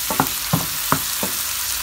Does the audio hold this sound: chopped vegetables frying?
yes